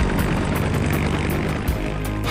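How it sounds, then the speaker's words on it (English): A cartoon helicopter from Paw Patrol Mission Paw comes in to land, its rotor beating in a loud, steady, rhythmic whir that fills the moment without any voices. "Skye, you're going to have to land your helicopter somewhere else."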